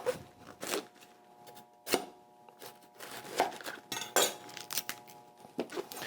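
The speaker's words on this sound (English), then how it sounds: "I'm going to cut the core out" A knife cuts the core out of an everyday green cabbage on a cutting board, sharp irregular chops and clicks with a few louder knocks, close and fairly quiet, no one talking.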